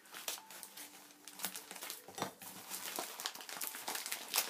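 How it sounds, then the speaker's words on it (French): Scissors snipping and tearing into a tightly glued package, a run of dry crinkly cuts, paper rustles and scrapes, close up and fairly quiet with no speech. "Alors je prends les ciseaux"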